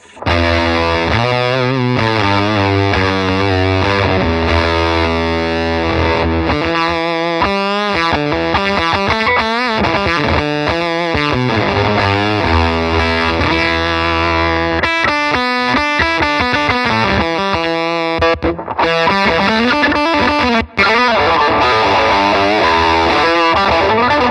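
An electric guitar runs through a Giudis C375 Fuzz pedal, giving loud, thick, saturated chords and single-note lines that ring and sustain continuously with a few brief gaps, close and alone with no talking.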